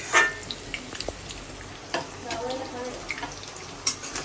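Katla fish jhal curry bubbling in a pan after water has been added, giving a soft, steady simmer and sizzle with scattered small clicks and pops close by.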